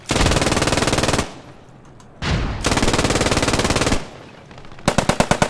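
Machine gun fire in the World War II shooter Post Scriptum: two long sustained bursts, a brief pause between, then a short sharp string of separate shots at the end, loud and close.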